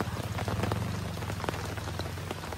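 Rain patters steadily on a surface nearby during a fishing outing, dense and continuous with a low rumble underneath and no voices.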